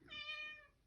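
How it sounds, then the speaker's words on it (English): A single female cat gives one drawn-out, clearly pitched meow that rises and fades, fairly quiet and slightly distant in a calm indoor room, with no talking. "Speaking of the cat, yeah, we hear you."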